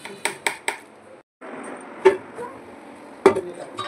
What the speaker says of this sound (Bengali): আমি কড়াই বসিয়ে দিয়েছি,